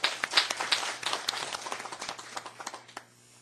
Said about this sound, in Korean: 격려의 박수 부탁드리겠습니다